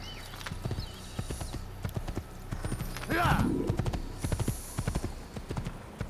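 Horse hooves clip-clop at a steady gallop rhythm in the Assassin's Creed game world, with a whinny rising near the middle, under background game sounds and occasional talk.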